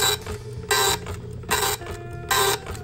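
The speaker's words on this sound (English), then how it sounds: "The program is telling the printer to dump out its complete character set over and over, and so it is." A vintage SWTPC PR-40 printer runs through its full character set again and again, giving loud mechanical bursts of printing about every three-quarters of a second, with quieter whirring and clicking between them.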